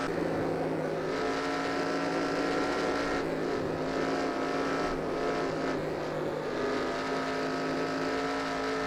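Stock car engine in a NR2003 2007 Cup racing game, a steady droning engine tone at moderate level with slight shifts as the throttle eases, no talk.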